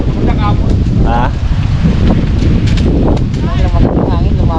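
Steady wind buffeting the microphone throughout, with a constant low rumble and voices shouting intermittently over it.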